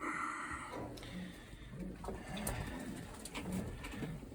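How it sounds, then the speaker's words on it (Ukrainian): Soft, repeated cooing of pigeons, low throaty calls recurring every second or so against faint outdoor background, with a few light flutters. "Голуби сидять."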